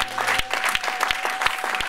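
A church congregation applauds during a French-language service, many hands clapping in a steady, fairly rhythmic patter, close and lively, with strong low thumps punctuating the claps.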